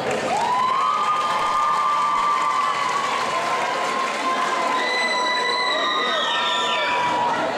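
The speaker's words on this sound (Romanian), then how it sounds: "Aplauze pentru ei!" An audience applauds and cheers a break dance crew at a stage show, a steady wash of clapping with shouts and whistles running throughout, loud and continuous, while a sustained tone carries over the crowd.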